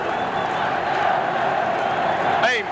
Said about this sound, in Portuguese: É impressionante a torcida do Flamengo no Maracanã